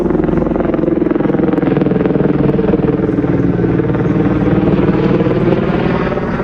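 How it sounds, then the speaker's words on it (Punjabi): Steady low rotor thrum of a helicopter passing overhead in snowy Gulmarg, loud and continuous throughout with no pauses. "ਹੈਲੀਕਾਪਟਰ ਜਾਂਦਾ ਨਾ ਉੱਪਰ ਦੀ ਆ ਦੇਖੋ"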